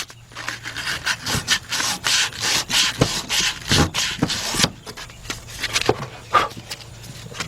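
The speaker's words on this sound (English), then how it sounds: "got me a little piece of sandpaper. What I'm gonna do is just go around there." Sandpaper is rubbed by hand around a rusty, dirty part on a Kia/Hyundai V6 engine during timing belt and water pump replacement, giving close, rhythmic scratchy strokes in quick bursts with short pauses between them.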